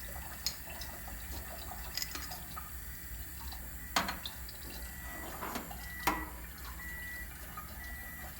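A Kangen water machine slowly fills a container, giving a faint, quiet trickle of running water with a few scattered soft drips and splashes.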